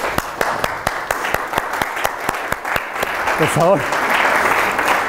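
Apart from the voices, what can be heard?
audience applause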